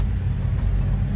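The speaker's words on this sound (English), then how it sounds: "you hear the exhaust" Exhaust of an International Harvester Travelall 4x4 with a swapped LS engine, a steady deep low rumble while cruising, continuous and fairly loud throughout the short moment.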